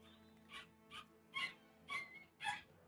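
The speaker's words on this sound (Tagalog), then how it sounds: "Ngalngal yung aso ng kapitbahay." A neighbour's dog whines faintly, repeating short high-pitched cries about every half second over a steady low background hum.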